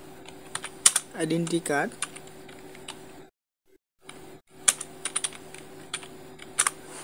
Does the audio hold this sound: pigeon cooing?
no